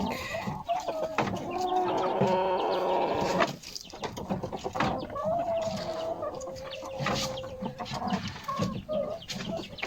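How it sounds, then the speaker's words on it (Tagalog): A pure labuyo jungle fowl rooster clucks close by in a series of short, irregular calls, with some longer drawn-out notes among them. "ayan yung ating pure na labuyo naman ay si bulik"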